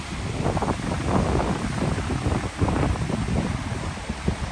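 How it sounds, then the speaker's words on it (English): Ocean surf rolling onto an Oregon beach beside Highway 101, with strong wind buffeting the microphone in loud rumbling gusts and the waves as a rushing wash underneath, no talk. "Look at the waves go."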